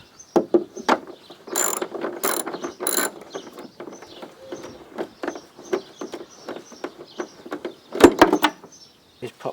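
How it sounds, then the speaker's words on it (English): Ratchet wrench clicking as it undoes a 12mm bolt hidden in a Honda lawn mower transmission, in rapid bursts of close, crisp ratcheting with brief pauses and a few sharper metallic knocks. "we're going to take this bolt out, hidden in there"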